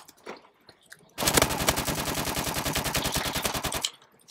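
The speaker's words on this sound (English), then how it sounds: "Someone's shooting me and I don't know who" Rapid automatic gunfire in Call of Duty: Advanced Warfare bursts in a fast, even rhythm for nearly three seconds, preceded by a few faint clicks and thumps.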